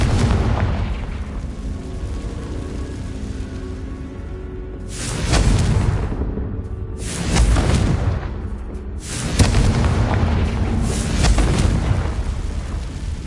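Confringo blasting spells explode in the Hogwarts Legacy video game, several heavy booming bursts landing in succession over a rumbling, continuous magical-combat background with no talking.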